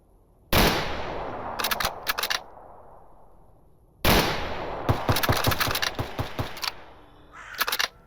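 Two loud bolt-action rifle shots in the S.T.A.L.K.E.R. Anomaly video game, each ringing out and decaying, followed by rapid mechanical clicks of the bolt being cycled.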